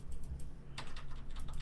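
Fingers tap a computer keyboard in quick irregular bursts, close and clear, over a low steady background hum with no talk.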